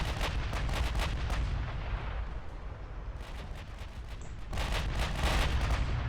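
Battleship guns firing in the Ultimate Admiral: Dreadnoughts naval video game, with continuous heavy booming and rumbling artillery volleys, dense and loud, swelling again toward the end.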